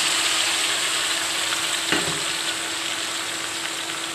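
Marinated meat hisses loudly in a pan of browned frying onions with a dense, steady sizzle, and a brief soft clatter partway through as it is stirred.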